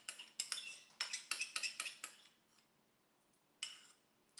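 A spoon scrapes the last of a sloppy joe mixture from a pan in a quick run of close metallic scrapes, pauses, then gives one more scrape.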